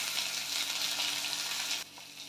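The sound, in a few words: onion, capsicum and tomato frying in pan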